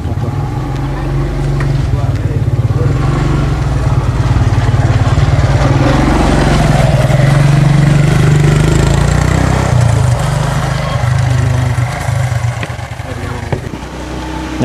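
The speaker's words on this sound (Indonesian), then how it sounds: "Motor." A motorcycle engine drones steadily and loudly throughout the ride, a continuous low rumble with some wind noise layered on top.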